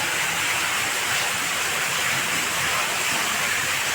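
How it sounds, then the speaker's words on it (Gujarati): Water gushes from a side borewell into a farm well near Keshod, Khambhalia taluka, making a loud, steady, close rushing roar like a small waterfall with no pause. "બહુ જોરદાર પાણી આવી ગયું હે ભાઈ જોવો"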